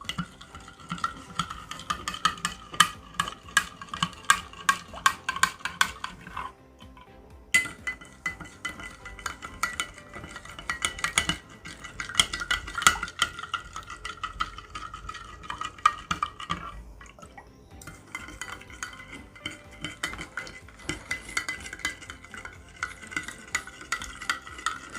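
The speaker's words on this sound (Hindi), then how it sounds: "सबसे पहले तो मैं इसको मिक्स कर लूँ तीनों को।" Continuous stirring of three liquid solutions being mixed for a hand soap demonstration, a utensil clinking and scraping steadily against a container with brief pauses.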